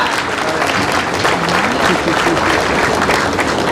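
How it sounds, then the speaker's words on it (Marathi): Loud, dense applause from a large audience welcoming a guest honoured for fifty years of social service, a continuous roar of many hands with a voice talking faintly underneath. "बेऱ्या साहेब आपल्यासाठी सगळ्यांनी टाळ्या वाजवून स्वागत करावं अशी विनंती करतो"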